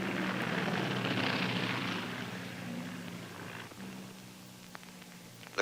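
An F7F Tigercat air tanker flies over during a fire drop, a steady droning engine roar that slowly fades, heard at a distance over a film soundtrack with small clicks near the end.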